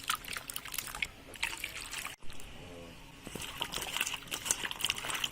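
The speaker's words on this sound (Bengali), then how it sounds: "তো আমরা আবার ধুয়ে নিচ্ছি এটা আমগুলো, আম আর আলু।" Green mangoes and potatoes are washed in water in a home kitchen, giving steady splashing, trickling and dripping close by, with one brief pause partway through.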